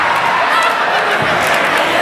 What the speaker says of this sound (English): And you heard that shoulder tackle as well.